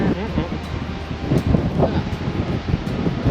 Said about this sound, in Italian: Ma c'è un vento, ragazzi, che porta via.